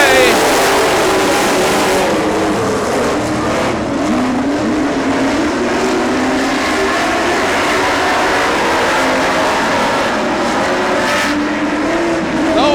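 Grand National race cars roaring through a heat race, a loud continuous engine drone from the pack with rising and falling pitch, an announcer's voice running over it.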